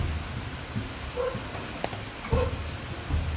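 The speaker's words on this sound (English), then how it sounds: "Who has the dog barking?" Dog barking in the background, a few faint short yips and woofs scattered over a quiet room tone, distant and soft.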